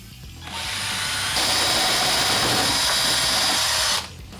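A power drill runs steadily through wood while a hole is drilled for a light bulb in a biltong drying box, a loud continuous whine that rises partway through and then stops abruptly.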